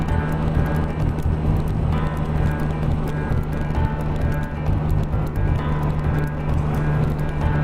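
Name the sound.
riding a Can-Am Spyder F3 motorcycle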